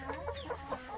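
Laying hens cluck softly in short repeated bursts, close by, with a steady low hum in the background.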